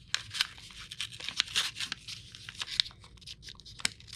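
Origami paper folded into a penguin, close crisp crinkles and rustles in irregular bursts as the paper is creased and pressed.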